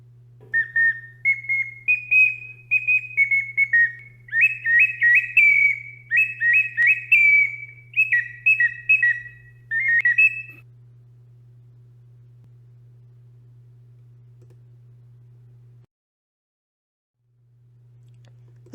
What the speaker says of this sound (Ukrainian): А ще глиняного дитячого свищика, що голосно сюрчить та витьохкує по солов'їному.